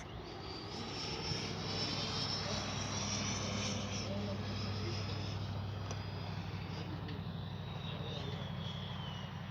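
An FMS 80mm F-86 Skyblazers RC jet flies overhead with a steady, continuous ducted-fan whine and rush that holds at a fairly even level the whole time, distant rather than close.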